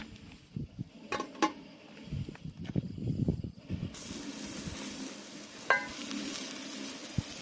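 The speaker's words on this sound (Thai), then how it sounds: "โอ้หมอเดือดแล้วครับ" A pot of curry paste made from shallots and garlic bubbles and hisses on the heat, with close sizzling, some stirring knocks and a steady steamy hiss.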